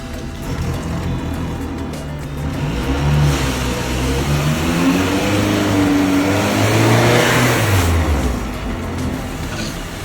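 A small Volkswagen Polo on summer tires revs on snow, its engine note rising and falling in repeated loud swells with wheelspin whine over a steady roar.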